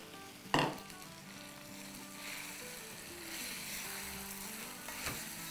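Chicken pieces with bone sautéing in a hot pan for green chicken karahi, a steady soft sizzle and stir throughout, with a sharp clank of utensil against pan near the start and a lighter knock near the end.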